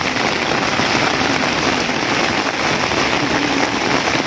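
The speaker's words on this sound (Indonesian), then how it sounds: "Apalagi hujan begini ya." Torrential rain falls hard and steadily, a close, loud, even roar of drops hitting the ground with no talking.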